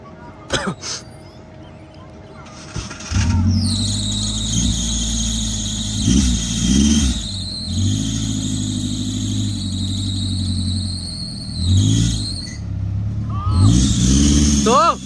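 A Volvo XC60 strains off-road with its throttle held, the engine droning and surging as loud tyre squeals rise and fall over several seconds while people shout over it.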